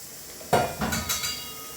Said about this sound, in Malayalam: മട്ടൻ നമുക്കിനി കുക്കറിലേക്ക് ഇട്ട് കൊടുക്കാം.